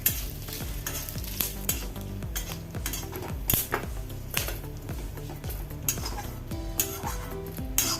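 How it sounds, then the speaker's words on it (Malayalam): Red chillies frying in hot oil in a pan for a mackerel fish pickle, a steady loud sizzle with repeated scraping and clinking of a metal spoon stirring against the pan, close up, no voices. "മുളക് വറുത്തെടുക്കുക"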